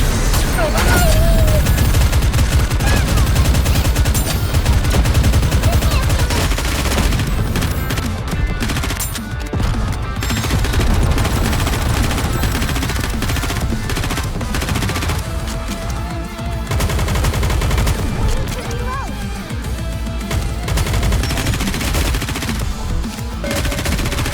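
Sustained, dense automatic gunfire from the video game Nikke: Goddess of Victory rattles without pause at high volume, with a voice talking over the shooting.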